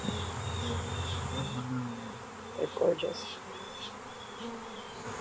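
Honey bees buzzing steadily at a hive, a continuous close hum with a brief louder burst midway, while a person talks briefly.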